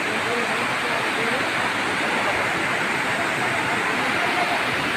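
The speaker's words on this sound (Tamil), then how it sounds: "மெயின் பாக்ஸ் அருவிக்கு வந்திருக்கோம்." Water pours over the Main Box waterfall in a steady, loud, even roar that fills the whole scene without a break, with no talking heard.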